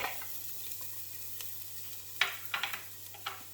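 Garlic, chilli and ginger sizzle in a pan of melting fat for a kale miso soup, a steady hiss broken by a few sharp scrapes and clacks of stirring.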